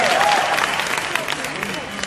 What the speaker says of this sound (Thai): ปรบมือได้ครับปรบมืออย่างปรบมือนะครับ